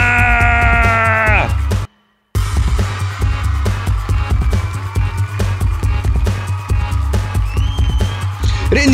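A goat bleats loudly and wavers, then cuts off abruptly; after a short silence a busy stream of quick clicks and game-like effects follows.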